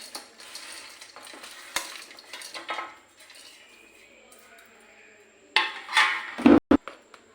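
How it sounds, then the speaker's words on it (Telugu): Bitter gourd sizzling in oil in a pan while being stirred, with quiet frying, scraping spoon strokes and louder clattering bursts of utensil against the pan toward the end. "కాకరకాయ కూడా వేసేసుకోవాలి."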